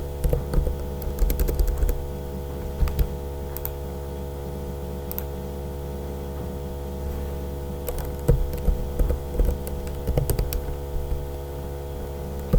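Light keystrokes tap out short bursts on a computer keyboard over a steady electrical hum, with long quiet gaps between the clusters of typing.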